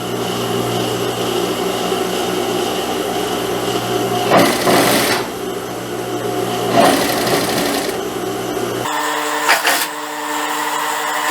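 A sewing machine runs a seam on a child's blouse with a ruffled sleeve: a continuous, close mechanical whirr with rapid stitching chatter, briefly pausing and restarting, then stopping near the end.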